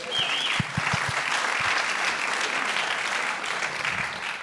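Steady applause from a political rally audience fills the whole stretch, dense and sustained, with a few low thumps near the start.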